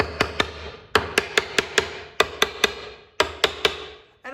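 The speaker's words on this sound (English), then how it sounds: "If you want, you could take a hammer." A hammer taps dowel pins into holes on the end of a lathe, sharp close metallic-wooden strikes in quick clusters of two and three, about fifteen blows with short pauses, no talk.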